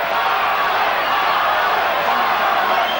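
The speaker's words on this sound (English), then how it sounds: "The crowd is chanting Marlon Starling's name." Boxing arena crowd at a welterweight title bout between Michael Nunn and Marlon Starling, a dense sustained roar of many voices chanting and cheering, steady and loud throughout with no break.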